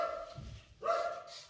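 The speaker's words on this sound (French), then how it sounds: "c'est pour ça qu'il n'arrête pas d'aboyer" A dog barks in a home during housecleaning: one short bark then a second louder one a moment later, close by and clear, with no talk over it.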